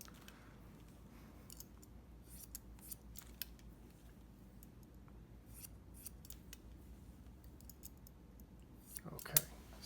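Scissors snipping through thick, straight hair during a haircut, a steady series of soft, close crisp clicks and small cuts, fairly quiet throughout with a slightly louder snip near the end.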